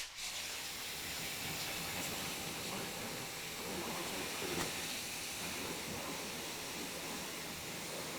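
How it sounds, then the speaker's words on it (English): Steady hissing spray of a touchless water rinse on a coated car wheel during detailing, a continuous broadband rush holding even from start to finish with no pauses. "So let's go ahead and do a rinse."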